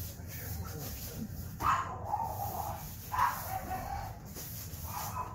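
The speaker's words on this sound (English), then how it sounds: "The dog's going crazy." A dog barks a few times in the distance, faint beneath steady background noise.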